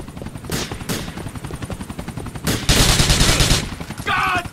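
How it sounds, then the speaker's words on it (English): A police helicopter in the GTA 4 video game thrums with a rapid rotor chop under bursts of gunfire and loud clattering action, dense and close throughout. "This is chopper turning up!"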